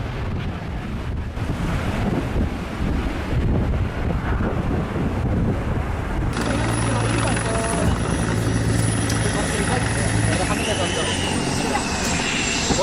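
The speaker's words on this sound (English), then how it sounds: "Falcon lifts off. Wingtip almost strikes runway in heavy crosswinds." A Falcon jet takes off in heavy crosswinds, a loud engine roar buffeted by strong wind noise, with a rising turbine whine entering halfway and staying strong to the end.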